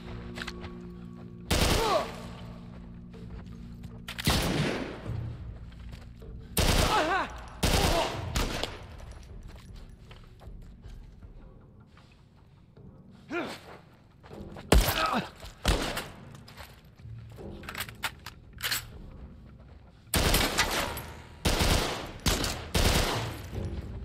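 Repeated bursts of loud gunfire from The Last of Us Part 1 on PS5, several volleys and single shots spaced across the stretch with quieter gaps between them.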